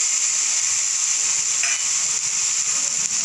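Capsicum, carrot, potato and chicken being stirred together in a pan for chicken soup, with a steady sizzling hiss throughout and a brief scrape of the utensil near the middle.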